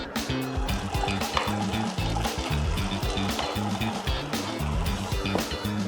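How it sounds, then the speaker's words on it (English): Bolognese sauce and blanched spaghetti heat in an oiled pan, giving a steady, fairly loud sizzle with stirring and clatter throughout, with no one talking. "So when we have our spaghetti blanched, let's put some bolognese sauce into the pan."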